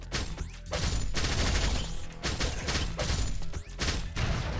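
Rapid gunfire in the action roguelike video game Blade Assault, loud bursts of shots and impacts crowding a busy game soundtrack with short gaps, no voices.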